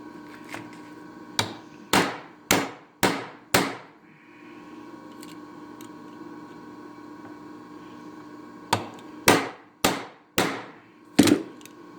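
Sharp metallic hammer blows on a 3/16-inch truss head rivet, a quick run of five strikes, a pause with a steady hum, then another burst of five.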